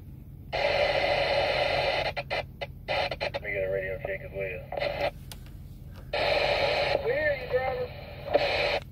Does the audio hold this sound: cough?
no